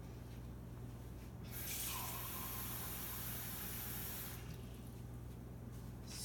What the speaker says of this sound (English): I'm also going to add just regular water to this because I want more liquid in here